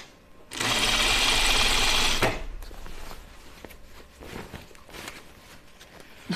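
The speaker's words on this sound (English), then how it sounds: "Now I just need to sew on the serging" A sewing machine stitches slacks over serged edges in one loud, steady burst of under two seconds, followed by quieter handling noises.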